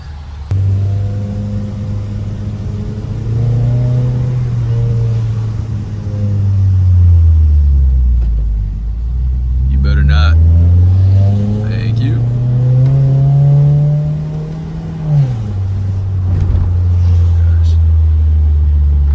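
A modded fourth-generation Mitsubishi Eclipse drives on pothole-ridden roads, its engine droning low and steady and rising and falling through gear changes, heard from inside the cabin with occasional bumps and rattles and no talk.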